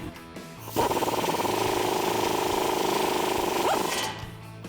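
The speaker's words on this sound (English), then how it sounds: "Then we can take our impact wrench and 13mm socket, and we can tighten that up" An impact wrench with a 13mm socket drives a self-tapping bolt home while fitting RedRock 4x4 side armor with step pads to a Jeep Wrangler: a loud, steady hammering rattle of about three seconds, close up, then it stops.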